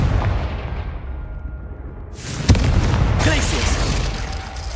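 A Confringo fire spell exploding in the Hogwarts Legacy video game, a sudden sharp blast about halfway through followed by a rumbling, crackling tail, set among continuous game ambience.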